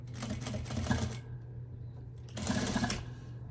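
Sewing machine stitching a quilted iPad holder in two short bursts of rapid mechanical chatter, near and fairly loud, with a brief quiet gap between runs.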